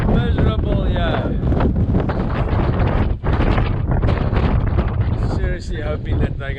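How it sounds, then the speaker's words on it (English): Strong 30-knot wind buffets across a Cape Verde harbour, a loud, continuous roaring rush of gusts with a brief lull partway through. "Another day of 30 knots of wind."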